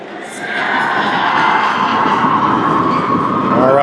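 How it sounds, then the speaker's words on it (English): A high school basketball student section at Mankato East chanting in unison, a loud, sustained crowd roar with rising and falling voices filling the gym. "Mankato East students chanting EAST East"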